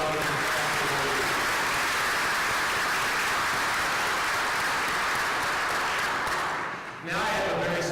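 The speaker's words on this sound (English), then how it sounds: "Let's have a round of applause for the past awardees." Sustained audience applause at an engineering alumni awards banquet, dense and loud from a large room, fading briefly near the end before a voice resumes.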